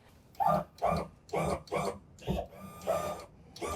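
A small outboard engine running low on fluid knocks and chugs unevenly, with rough rhythmic bursts roughly every half second, close by and harsh, with no one talking.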